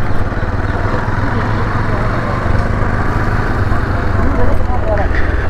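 A motorbike engine runs steadily while skidding through sand on a village trail, a dense rumbling drone at close range with people talking over it.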